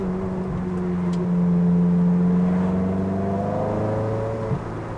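A BMW M3 engine at a car meet revs and drones in a steady, loud rise and hold, its pitch climbing then easing back, with no talk over it.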